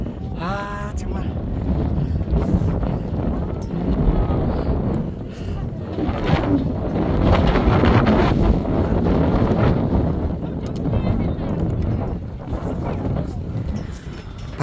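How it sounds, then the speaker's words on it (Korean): Strong wind gusting across a rocky mountain ridge on Dongseoksan, Jindo, buffeting the microphone in loud, rough surges that rise and fall for about fifteen seconds, with a voice heard briefly in the gusts. "바람이 엄청 불어"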